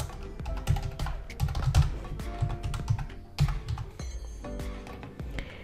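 Quick, close bursts of key presses on a computer keyboard as a signup form is filled in: a name, an email address and a password, typed in uneven runs with short pauses between them.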